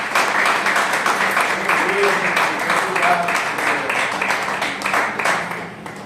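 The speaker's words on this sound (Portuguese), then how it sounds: "Eu aplaudiria o Senhor." A church congregation claps together in a dense burst of applause lasting several seconds, with a voice speaking over the clapping.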